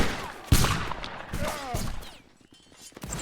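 Rifle fire in a 95th Rifles video game battle, a sharp close shot followed by scattered nearby and distant gunfire and pops, with a player's voice talking faintly underneath.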